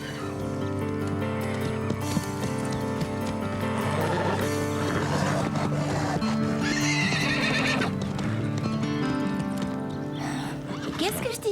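A horse whinnies and snorts while hooves clip-clop unevenly nearby as it balks at a wall jump, amid steady background noise and occasional voices.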